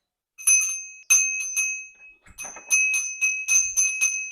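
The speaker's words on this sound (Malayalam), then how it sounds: "എന്നാ ബെല്ലൊന്ന് അടിച്ചു നോക്കാം" A bicycle-style bell rings in quick bright bursts, a few separate dings, a short pause, then a faster run of rings, close and clear.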